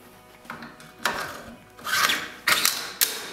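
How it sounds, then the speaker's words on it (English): A charging handle and modified bolt go into an Adams Arms gas piston rifle, giving a few sharp metallic clicks and scraping slides spaced about half a second apart, close and fairly quiet. "what we're gonna do now is put the charging handle in"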